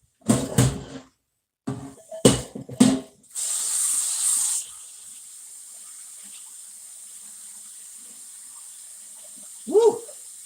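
Hot water runs from a kitchen tap while dishes are washed on a Sunday night. Short splashing bursts give way to a brief steady stream that then shuts off, leaving a quiet room and one faint clink near the end.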